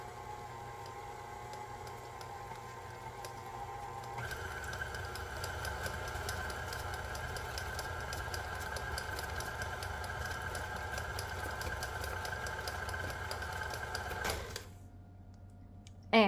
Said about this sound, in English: I have farmer's cheese in here with some vanilla sugar, and I will mix it for a little bit.